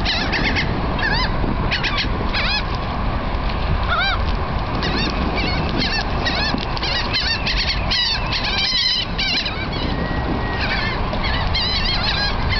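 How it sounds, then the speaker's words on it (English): A crowd of seagulls calling over water as cheese balls are thrown in, dense overlapping squawks and cries, loud and continuous with a steady background rush, no talking. "Here comes the birds."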